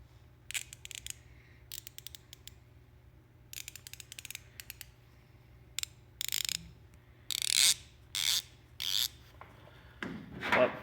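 A 1/4-inch 72-tooth palm ratchet clicking in short bursts of rapid fine clicks, several runs spaced apart with pauses, close and fairly quiet, followed by a few louder scraping strokes.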